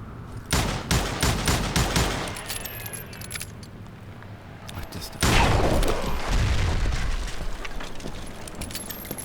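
Gunshots in the Call of Juarez: Gunslinger video game as a rope holding up a footbridge is shot, sounding as a dense volley of sharp cracks, a quieter stretch, then another loud burst of shots and clatter.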